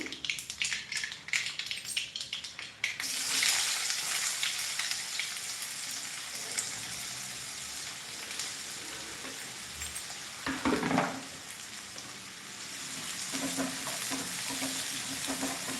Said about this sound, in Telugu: ఆనియన్ని బాగా వేపుకోవాలండి